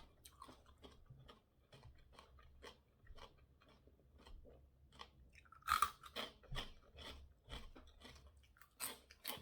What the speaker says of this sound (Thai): ได้แคบหมูมากินกับ หมูซองมาให้ คุณนายโยเพิ่นเฮ็ดแคบหมูขายพี่น้อง กรอบดี